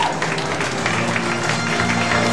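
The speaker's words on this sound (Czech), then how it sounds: "Potlesk!" Award ceremony at a nightclub, with a crowd applauding loudly and steadily and a dense wash of clapping from start to finish.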